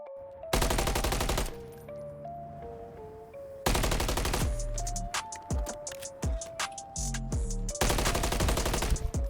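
Rapid automatic gunfire bursts in Modern Warfare 3, a first-person shooter, as the player slides around corners and drop-shots; loud repeated rattling volleys separated by brief pauses, with game sound effects layered in.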